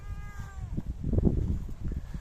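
A cat meows once, briefly and fairly close, at the start, followed by low rumbling, handling-like noise outdoors.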